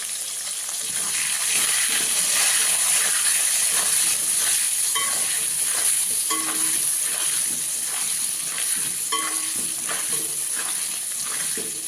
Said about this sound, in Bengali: আলু ভাজাতে একটু হলুদ গুঁড়ো দেবো যে আলুটা ভেজে নেবো